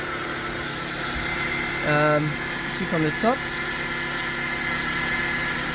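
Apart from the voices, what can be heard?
car engine idling after crankshaft seal and pulley replacement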